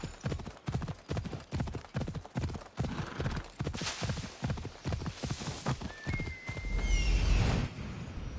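A horse ridden in Assassin's Creed Odyssey gallops, its hooves clip-clopping in a fast, even rhythm that is close and clear, then ends with a loud whinny and a rising whistle-like tone.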